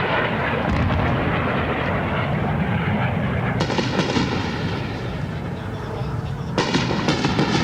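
Military jets roar low overhead during wartime, with a continuous heavy rumbling engine roar and sharp surges as more jets pass, loud and close throughout.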